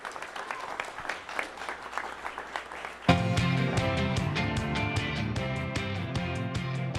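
A conference audience applauds after a lightning talk on a stage, a dense patter of clapping for about three seconds before loud rhythmic music with a steady beat cuts in and carries on.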